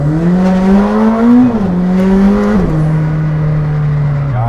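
A McLaren Senna's 800-horsepower engine drones loudly inside the cabin, its pitch rising and falling with the revs, with a steady road rumble underneath.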